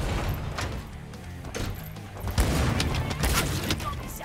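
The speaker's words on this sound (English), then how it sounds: "we got a boomstick." A boomstick shotgun fires in the video game Shootas, Blood and Teef, with dense, heavy blasts and crashes over a constant rumble of game noise and scattered thumps.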